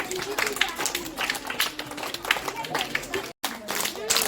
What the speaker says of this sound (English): Big clap again.